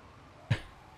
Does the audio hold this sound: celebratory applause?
no